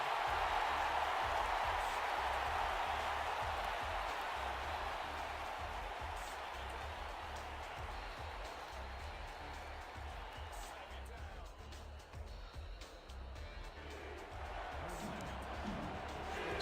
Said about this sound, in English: Sioux Falls crowd getting loud, trying to will their team into OT.